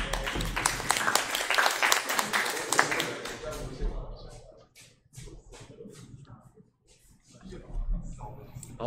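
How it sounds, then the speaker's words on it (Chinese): An audience claps to welcome a speaker at a g0v workshop session at Kun Shan University. The burst of applause lasts about four seconds, then fades into quieter shuffling and talk. "那我们就掌声欢迎他来"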